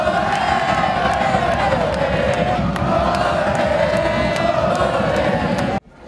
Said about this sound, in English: The student section present at both home and away games uses unity, chants, and crazy enthusiasm to keep the game going.